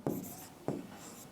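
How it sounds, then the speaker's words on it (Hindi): Two quick scratchy strokes of writing on a classroom board, each beginning with a sharp tap and trailing off, heard close with no talking. "यहां मैं लिख दे रहा हूं"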